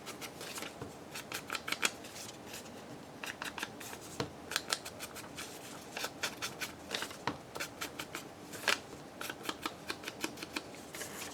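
Scissors snipping through paper while making winter journal ephemera: a long series of close, crisp cuts coming in quick bursts, clear and nearly free of talk.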